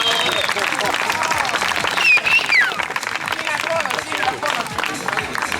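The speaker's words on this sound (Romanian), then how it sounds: "Aplauze pentru Ștefan încă o dată." Crowd applause at a downhill mountain-bike race award ceremony, steady dense clapping filling the scene with a brief whistle-like squeal midway and babbling voices underneath.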